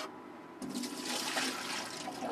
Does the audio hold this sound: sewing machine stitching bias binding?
no